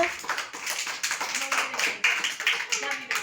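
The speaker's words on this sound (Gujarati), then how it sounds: "તાળી પાડો" Young children in a classroom activity clap their hands in a quick, fairly steady rhythm, with small voices talking over the claps.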